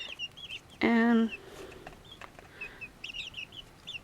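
Young chickens in a box clucking and cheeping: one loud, clear squawk near the start amid softer scattered chirps and peeps, close by, with a brief spoken word.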